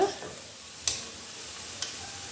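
Bolognese meat sauce sizzles steadily in a pan while a spoon stirs it, with two sharp scraping ticks against the pan over a soft, constant frying hiss, close and moderately quiet.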